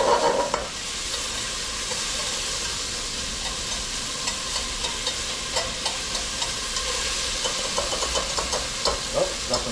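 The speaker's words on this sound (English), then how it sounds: "now the cranberries are starting to sweat down a little bit" Cranberries sizzling and blistering in a hot pan, a steady hiss of frying close up with occasional stirring clicks.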